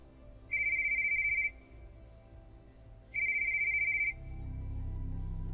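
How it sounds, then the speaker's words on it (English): A default phone ringtone sounds from inside a man's pocket in a quiet room, two clear bright electronic ring bursts of about a second each, separated by a short pause. "My phone rang."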